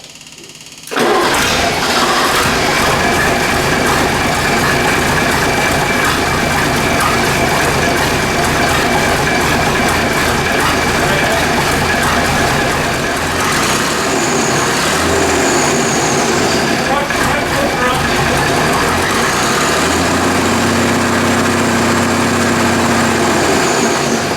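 An 80-year-old engine kicks into life and then runs and idles steadily, loud and close with a constant mechanical rumble and clatter, no talk.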